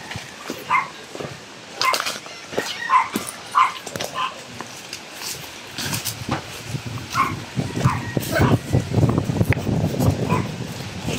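A dog barks in short bursts alongside yips and whimpers, fairly close, with rustling and background noise building in the second half; no speech.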